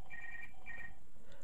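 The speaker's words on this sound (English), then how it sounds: "That's my phone ringing." A phone rings with two short electronic ringtone bursts, one after the other, steady and fairly clear over a low background hum.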